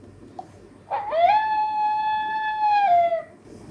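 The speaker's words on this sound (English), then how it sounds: "wolf howl," A single long synthetic howl from an Enabot Rola Mini robot pet companion rises, holds steady for about two seconds, then drops away, clear and alone with a faint hiss behind.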